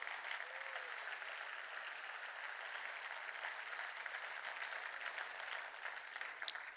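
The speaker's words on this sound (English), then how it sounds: "They deserve a big round of applause once again." Round of applause in an auditorium after a children's kindergarten performance, continuous dense clapping heard from a distance, quiet and steady throughout.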